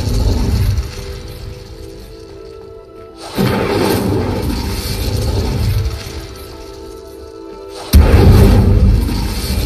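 The Incendio fire spell cast in Hogwarts Legacy lands as heavy booming bursts, two sudden loud blasts a few seconds apart over a dense rumbling game soundscape, with no talking.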